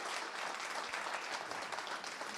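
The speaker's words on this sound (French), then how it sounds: "Tonnerre d'applaudissements s'il vous plaît pour Armelle." A studio audience at a French talk show gives sustained, dense applause to welcome a sailor guest, an even wash of clapping with no voices over it.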